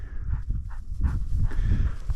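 A hunting dog on a sharp-tailed grouse hunt in Montana pants close by in quick, steady, breathy bursts, with faint whimpering mixed in.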